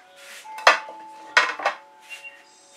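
An OXO flip-and-fold omelet turning spatula scrapes leftover fluid acrylic paint across a surface in a few short, sharp strokes, loudest near the start and middle, with faint quieter scrapes toward the end.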